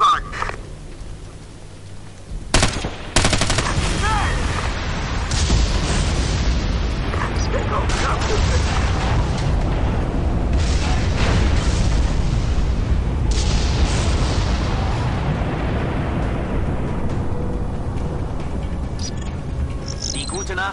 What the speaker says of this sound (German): Sprengen wir den Tankwagen!